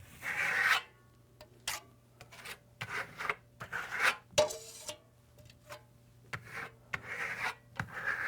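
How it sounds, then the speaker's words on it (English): A steel trowel scrapes Venetian plaster across a wall in an open, skip-trowel pattern, making a series of short, raspy strokes separated by brief pauses, fairly quiet and close, with no voices. "We're using an open pattern, a skip trowel application, so we're applying all over the surface, but we're leaving spots open for the next layer."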